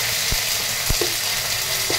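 Ginger paste sizzles in hot oil over whole spices like cloves, cinnamon and cardamom, a steady close hiss punctuated by a few sharp knocks and scrapes of a spoon against the pan.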